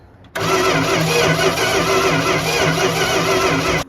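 An abandoned 1971 Plymouth Fury, with one cylinder lacking compression, cranks loud and close in a continuous rhythmic churn for about three and a half seconds, then stops abruptly without catching.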